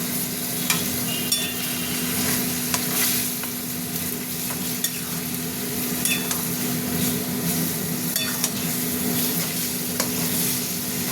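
Spice paste seasoned with salt and a little sugar fries in oil. A dense, even sizzle with faint crackles runs unbroken over a low steady hum.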